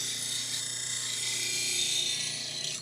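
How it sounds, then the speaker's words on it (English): A woodturning gouge is sharpened on a grinder with a steady high-pitched grinding whine holding evenly for a few seconds, close and alone without talk. "I'm going to sharpen my gouge first."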